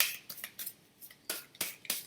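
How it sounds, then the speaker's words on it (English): A deck of small cards being shuffled by hand, with quick crisp riffling bursts repeating in an uneven rhythm, close and fairly loud, with no talking. "This is much easier to shuffle."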